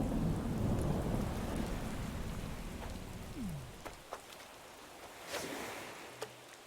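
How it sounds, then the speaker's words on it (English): Rain pours steadily during a thunderstorm in Animal Crossing: New Horizons, a dense hiss with low rumbling thunder fading out, followed by scattered drips and light taps as the downpour eases. "Oh my god, I love this storm so much."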